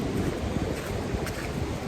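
Sea waves breaking against rocks on the Cornwall coast, a steady, loud, dense roar of surf and wind noise with no speech over it.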